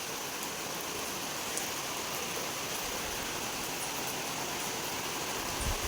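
A heavy downpour hisses without a break, thick drops drumming close by at an even, loud level, with no talking.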